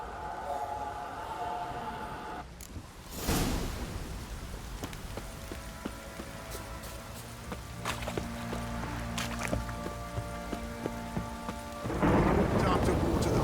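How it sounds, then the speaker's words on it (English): Heavy rain pours steadily in The Witcher 3: Wild Hunt, with a loud crack of thunder early on and another surge of rumbling near the end. "This downpour's a bastard"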